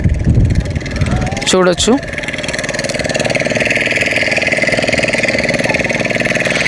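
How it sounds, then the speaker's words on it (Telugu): A motorboat chugs past on the Vizag colony backwaters, its steady, pulsing engine drone continuing throughout. A person speaks briefly near the start, and a sharp whistling sweep cuts through early on. "సో ఇక్కడ బోట్ ఏదైతే పోతుంది కదా, ఆ వీడియోలో నేను క్యాప్చర్ చేస్తున్నా బోట్ పోయేది"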